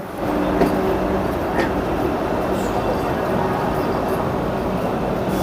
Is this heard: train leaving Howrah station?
yes